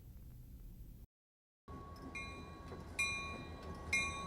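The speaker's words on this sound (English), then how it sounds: "the Ontario Northland passenger train made its final run" An Ontario Northland passenger train on its final run rumbles steadily after a brief dropout, with sustained horn-like tones sounding out and swelling at moments, loud and close with no talk.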